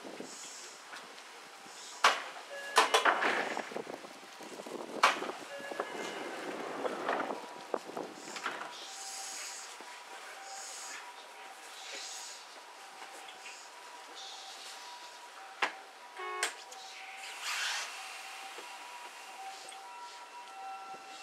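A Seibu Railway 9101F express train at Sayamagaoka station during snowfall, with door chimes and closing thuds, then a low rumble and hum of the train pulling away before the scene goes quieter with faint beeps.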